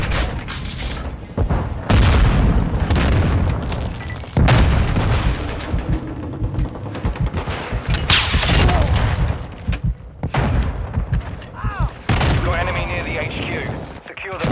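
Repeated loud explosions and bursts of gunfire in a chaotic Call of Duty: Modern Warfare II Search and Destroy battle, with a voice talking over some of the blasts.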